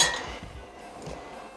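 A cooking pot set down on a kitchen stove gives one short metallic clink at the start, followed by quiet room sound.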